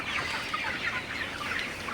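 Sonali chickens, 56 days old, cluck and chatter together in a dense, continuous murmur, many birds close by in an enclosed poultry shed, no voices.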